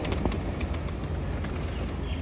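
Rampuri pigeons make soft low cooing, close and continuous, with light rustling and occasional wing movement and no voices.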